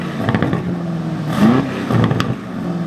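An Aston Martin DBX engine in Sport Plus mode rumbles and revs up and down in short bursts, with the pitch rising briefly before settling back to a throaty idle.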